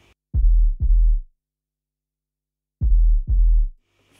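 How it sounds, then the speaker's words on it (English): A high-cut 808 bass filtered below 200 hertz thumps out two pairs of deep booming hits separated by silence, loud and alone. "I have an 808, which is high-cutted,"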